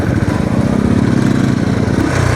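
A Royal Enfield Classic 350 BS6 single-cylinder engine pulls hard in fifth gear during a top speed run, a loud steady thumping drone close up, with no talking.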